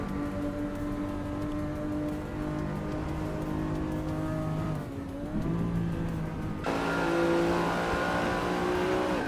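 A 1987 Ford Sierra RS 500 Cosworth race car in a racing video game, its engine droning and revving steadily with pitch shifts and a sharp rise in intensity near the end, other cars audible alongside, no talk.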